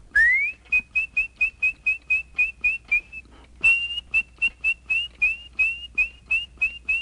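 An animatronic robin from Mary Poppins, built by Walt Disney Imagineering, whistles a quick run of short, bright, evenly spaced chirps, pauses briefly, then repeats the run; clear and close, with no talking.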